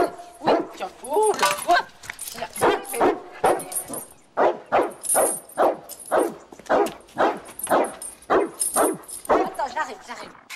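Waldo the dog barks in a rapid series of loud, close yaps and yips with some whimpering, nearly continuous over the stretch, while people talk indoors.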